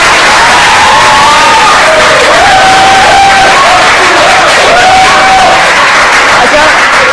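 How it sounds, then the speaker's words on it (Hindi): A loud, dense crowd at a televised Pakistan v India T20 World Cup cricket show cheers and whoops continuously, with sustained applause and shouting filling the whole stretch without a break. "जोरदार तालियां सलमान भाई के लिए।"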